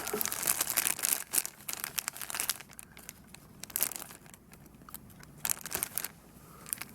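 Hard plastic packaging of an electronics soldering kit being cut open, close crinkling and crackling with irregular snips and rustles throughout, fairly quiet.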